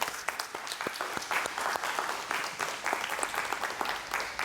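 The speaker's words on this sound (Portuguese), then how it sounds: "Pode aplaudir." A church congregation claps in a lively, dense burst of applause that runs steadily from start to finish, with no talking over it.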